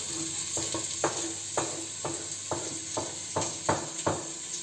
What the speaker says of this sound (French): On va maintenant mettre les oignons que nous avons découpés.